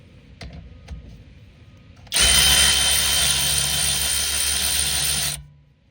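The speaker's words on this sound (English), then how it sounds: "Very useful 3/8 inch ratchet, guys. Very nice. 21 volt max." A cordless 21-volt 3/8-inch power ratchet spins off brake bolts during a brake overhaul, giving one loud, steady whirring burst of about three seconds after quiet shop background, then stopping.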